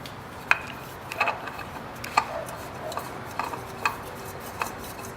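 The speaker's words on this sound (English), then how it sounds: "So now we're going to install the filter" Oil filter being screwed by hand onto a clean mounting base on a car engine: a series of faint, irregular clicks and light scrapes at a steady pace, close by, with no voices.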